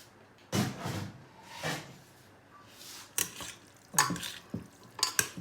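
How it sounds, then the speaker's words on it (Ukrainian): A spoon scrapes and swishes through cooked beans in a pot, several separate stirring strokes with clinks against the pot, close and unhurried. "Зараз ми то все перемішаємо."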